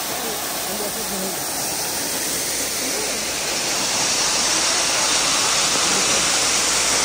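Kegeti waterfall in Kyrgyzstan, partly frozen with ice, roars as a steady, loud broadband rush of falling water that fills the whole clip and swells slightly toward the end.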